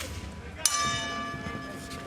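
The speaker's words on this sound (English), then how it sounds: "Bell in round 2" A bell rings once to open round two of a Bellator MMA fight, its bright metallic clang sustaining and slowly decaying over crowd and arena ambience.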